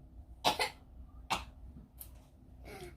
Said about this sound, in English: I know, I'm really coughing.